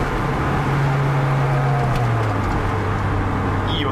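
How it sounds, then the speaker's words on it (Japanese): Lotus Elise sports car engine droning steadily, with its low tone dropping partway through as the driver downshifts, heard from inside the cabin with a faint bird coo in the background. "シフトダウンがうまいですね"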